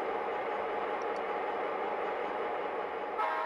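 A steady, continuous rumble of C&O model locomotives 3011 and 3014 pulling a coal train along the track, with a faint squeal and a brief shift in tone near the end.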